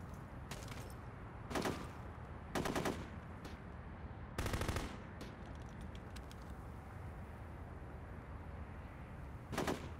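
Gunfire in the video game Full Spectrum Warrior comes as several short, separated bursts of automatic fire over a steady low background hum, with long gaps between them.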